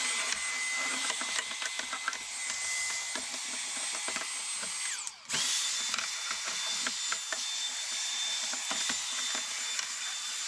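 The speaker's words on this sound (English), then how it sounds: "Let me go grab my little vacuum so we can clean this out." A small handheld vacuum cleaning a vanity desk whines steadily with rattling clicks and scraping, cutting out briefly midway before starting up again.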